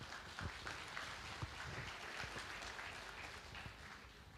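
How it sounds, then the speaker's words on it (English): An audience at a provincial installation ceremony applauds musicians, a steady, fairly faint wash of many hands clapping heard from a distance, with a few louder individual claps. "Let us give them a thunderous round of applause"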